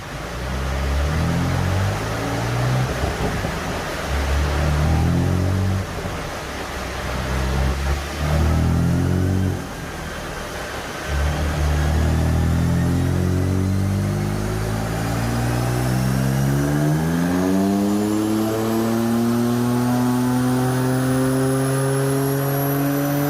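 Modified BMW M3 with a Stage 1 tune and manual gearbox running on a dyno: a loud, continuous engine roar climbing through the gears with rising harmonic sweeps, brief dips at shifts, ending in a sustained high-rev pull.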